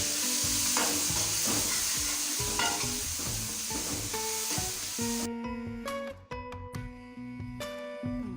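Onions and tomatoes lightly frying in a pan, a soft sizzle with gentle stirring knocks, then the hiss drops away and tonal clinks and tapping carry on over what sounds like background music, no one speaking.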